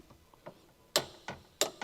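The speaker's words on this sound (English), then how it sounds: "Using the 15mm long socket with the large long extension bar and torque wrench, torque the rear strut top mount nuts" A torque wrench tightens the 15mm rear strut top mount nuts on a Honda CR-V through a long socket and extension, giving a few quiet ratchet clicks that rise to sharper, louder clicks at an uneven pace.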